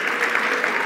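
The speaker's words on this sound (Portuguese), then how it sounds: "A salva de palmas" Studio audience applause on a talk-show podcast, a steady dense clatter of many hands that holds evenly throughout the brief moment.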